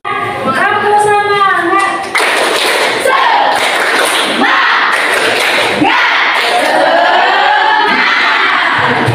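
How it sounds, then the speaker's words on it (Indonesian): A classroom group stands and performs a rhythmic tepuk semangat spirit clap: bursts of loud patterned clapping and thumps mixed with children's chanting voices and cheering, close and energetic throughout. "Kita tepuk semangat dulu supaya pembelajaran kita lebih semangat lagi."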